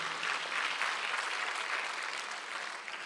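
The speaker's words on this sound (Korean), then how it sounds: "박수하세요" Church congregation applauding during a Sunday worship service, a dense, sustained round of clapping from many people that carries on steadily and tapers slightly toward the end.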